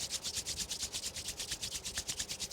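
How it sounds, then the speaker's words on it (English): Two palms rub briskly together in a quick, even back-and-forth rhythm of soft swishing strokes, close but faint, with no speech. "Rub the palms together."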